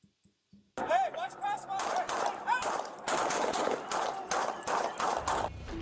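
A rapid burst of loud gunshots during a confrontation in Norwalk, then repeated sharp cracks in an uneven volley, with a few faint thumps before the shooting starts.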